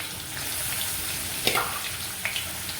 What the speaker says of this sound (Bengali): ফোড়নটা ভালো করে ভাজা হলে পরে এখানে আমি 2টো পেঁয়াজ কুচি দিলাম